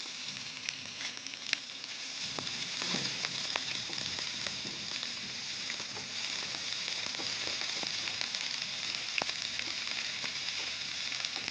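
Green chili and ginger fry in hot ghee with cumin, giving a steady, close sizzle with scattered sharp crackles and pops throughout, and no one speaking.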